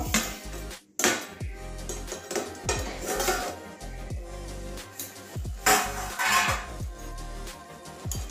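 Pot lid lifted and set aside while cabbage curry with katla fish head cooks, a string of sharp metallic clanks and scrapes against the pot at close range, uneven in rhythm, with no one speaking.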